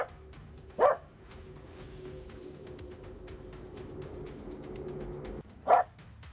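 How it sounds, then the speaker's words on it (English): Two short dog barks sounded as an effect, spaced several seconds apart over a quiet background, each one brief and fairly loud. "Let's go, barking dog."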